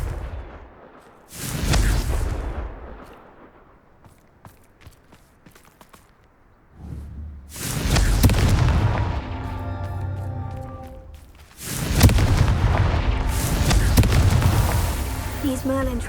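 Fiery Confringo spell blasts in Hogwarts Legacy, three heavy booming bursts, each rumbling on for a few seconds, loud and close, separated by quieter stretches with light footsteps and small ambient sounds.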